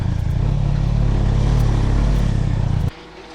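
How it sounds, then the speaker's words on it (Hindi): A motorcycle engine labours uphill in second gear without picking up, a loud steady low drone that cuts off abruptly near the end, leaving quiet. "एक हल्का सा इशू आ रहा है मेरी बाइक में, पता नहीं ये सेकंड"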